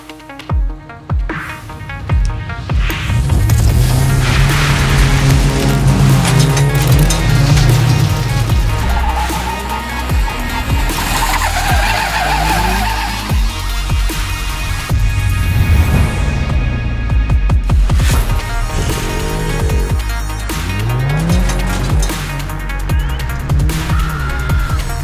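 A two-litre, 200 hp Peugeot race car drives hard with a loud, continuous engine roar that rises and falls with the revs, close by and with no voices over it.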